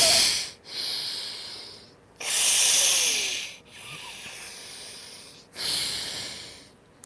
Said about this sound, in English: Nadi Shodhana breathing